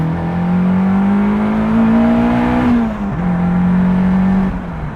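A Caterham CSR engine revs hard while accelerating from the cockpit, a loud steady drone rising in pitch, briefly dipping at a gear change, then climbing again.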